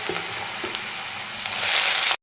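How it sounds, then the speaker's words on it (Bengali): Potatoes dropped into hot mustard oil in a pan, a loud dense sizzle filling the short stretch and swelling louder near the end before cutting off abruptly. "তেলটা আমার গরম হয়ে গেছে, তেলের মধ্যে আমি আলুগুলো দিয়ে দেবো।"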